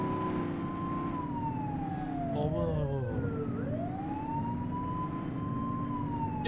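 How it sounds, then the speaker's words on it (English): A police siren in the video game The Precinct wails steadily, its pitch sweeping down and back up, loud and close over a low engine rumble. "You're only meant to use the siren in emergencies."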